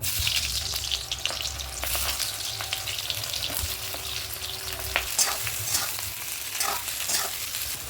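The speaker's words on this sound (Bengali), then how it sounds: "তেল গরম হয়ে গেছে, এবার আমি পেঁয়াজ কুচিগুলো দিয়ে দেবো।" Chopped onions hit hot oil mixed with ghee, a loud, close, continuous sizzle with crackling pops and occasional spatula scrapes and stirring knocks.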